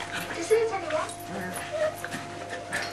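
A small white dog lets out thin, squeaky whimpers and yips in short bursts indoors on a carpet, close by, with people talking over it.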